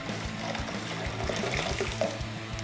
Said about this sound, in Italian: andiamo a versare il mio latte